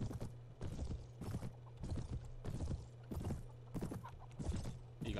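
Horse hooves clip-clop at a steady trot in the Mount&Blade Warband video game, close and rhythmic with roughly two footfalls per second over a low background hum.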